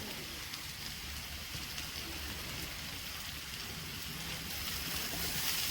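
Crushed shallots dropped into a hot pan for a Kerala-style prawn roast, frying steadily: a dense, even sizzle and crackle that holds throughout and swells slightly toward the end, close and fairly loud.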